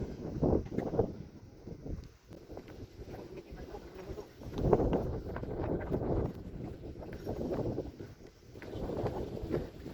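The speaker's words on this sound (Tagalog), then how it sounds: "Ang hangin." Wind gusts buffet the microphone in rumbling waves on a hiking trail at Cape D'Aguilar Marine Reserve, Hong Kong, rising and falling throughout, with faint voices in the background.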